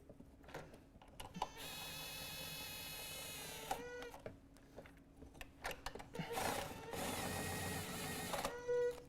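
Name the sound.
bolts being run in on a throttle body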